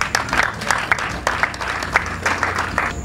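Rhythmic clapping from an audience at a youth gathering in Cavally, with strong regular beats, as if the crowd is clapping in unison, for young people who had spoken.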